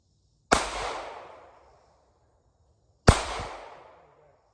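Two loud, sharp pistol shots from a Firestar Plus Model 243 fired at steel targets, several seconds apart, each ringing out with a decaying tail.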